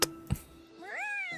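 A cat in the video game Wuthering Waves gives a single drawn-out meow that rises and then falls, heard clearly after two short thumps.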